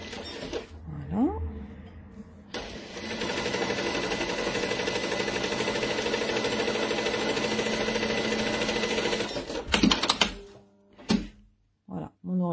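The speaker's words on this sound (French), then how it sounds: "Là je vais faire mon petit ourlet du haut de ma pochette." A sewing machine stitches the top hem of a fabric pouch, running in a steady continuous whir for several seconds before stopping, with brief voice sounds and handling noises at the start and end.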